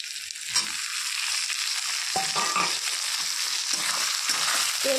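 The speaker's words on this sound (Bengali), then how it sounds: "এখন দিয়ে দেব মাছের তেল।" Fish oil fries in a pan with onion and green chilli, a loud, continuous sizzle broken by the scrape and clatter of a spatula stirring several times.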